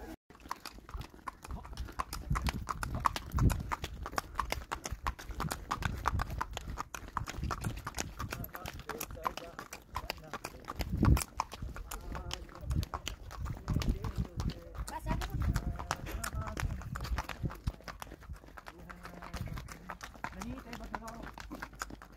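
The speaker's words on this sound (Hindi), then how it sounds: "घोड़े का नाम शहजादी" Horse hooves clip-clop steadily on a snowy mountain trail, a continuous rhythmic clatter of close footfalls with people talking over it.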